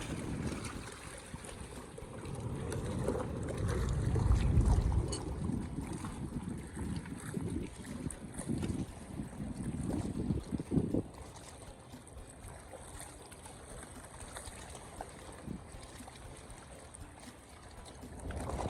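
Fishing motorboats heading out from a bagan fishing area run across the water, a steady engine and hull rumble with wind buffeting the microphone, louder at first and easing to a lower drone.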